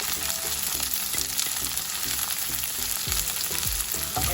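Frozen tindora (ivy gourd) hitting a hot pan with spices crackles in a loud, dense sizzle, with stirring scrapes and a few pops close up, no one speaking.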